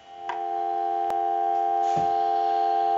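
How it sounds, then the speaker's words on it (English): A steady, continuous dial tone from a Trimline pink wall telephone, fed through an amplifier, hums without a break, with a couple of faint clicks near the start. "And we'll give you some dial tone."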